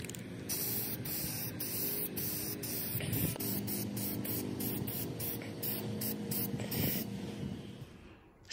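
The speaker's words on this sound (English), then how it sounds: "the bottom doors were both also painted black, and I am spray painting them" Steady hissing spray from a paint sprayer applying black paint to cabinet doors runs continuously, with a few faint clicks and rattles of the trigger mechanism underneath.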